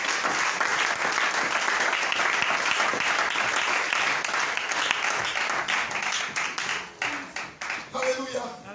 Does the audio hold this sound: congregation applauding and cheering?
yes